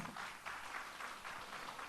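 A church congregation applauds during a Sunday service, producing soft, fairly distant clapping that swells in gentle waves for a couple of seconds.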